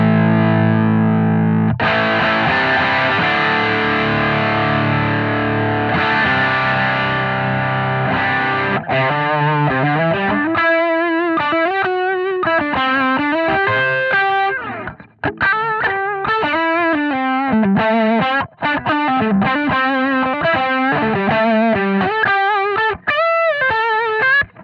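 Electric guitar through a Strymon Riverside overdrive pedal, first a sustained distorted chord, then a run of overdriven single-note phrases played alone, loud and continuous.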